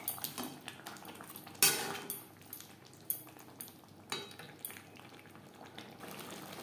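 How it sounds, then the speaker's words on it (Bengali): Spoon stirring chopped tomatoes into chicken in a pan for aloo chicken, with scattered scraping and clinking strokes and a soft bubbling simmer underneath, fairly faint and without talk. "চিকেনের সাথে টমেটো বেশ ভালো করে মিক্সড করে দেবো।"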